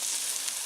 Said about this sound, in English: So I got some burgers cooking.